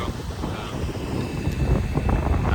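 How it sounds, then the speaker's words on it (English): Wind gusts at an airport base in Baku, buffeting the microphone with a heavy low rumble and broadband rushing that builds slightly toward the end. "As you can see, it is a little bit windy."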